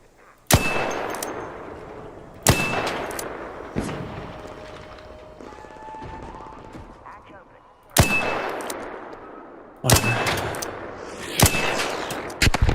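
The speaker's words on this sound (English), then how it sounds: "The bombardier shooting at us." Bombardier enemy firing in the video game Arc Raiders: sharp, loud metallic gunshot bangs in irregular bursts, a few spaced seconds apart with clanging echoes, over a steady background hum.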